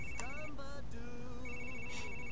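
Phone ringing in The Sims 3 video game, a repeated electronic ringtone of short rising tonal bursts over a constant background hum.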